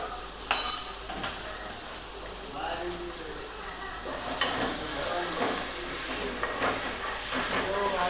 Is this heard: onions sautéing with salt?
yes